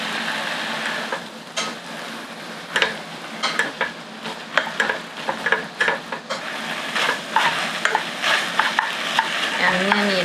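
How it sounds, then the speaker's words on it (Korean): Seaweed and seasoned beef stir-fried in a pot give off a loud, close sizzle, with quick uneven clacks and scrapes of a spoon working the contents throughout. "양념이 이렇게 깨끗하게 다 재료에 배도록 볶아주세요"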